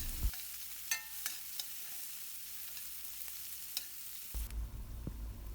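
Onions cooking in a pan for brinjal rice, a quiet steady sizzle with occasional soft scrapes and taps of a spoon stirring, ending in a louder, closer rumbling shuffle.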